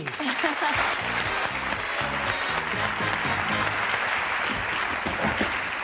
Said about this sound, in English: And a huge round of applause for me